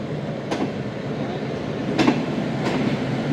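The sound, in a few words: train departing Sahiwal station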